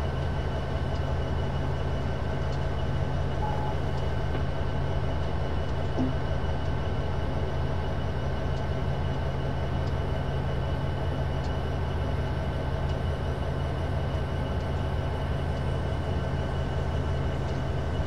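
A train runs on the Horseshoe Curve route in Train Simulator 2015, a steady low rumble and rolling drone with constant hum, unbroken and without talk.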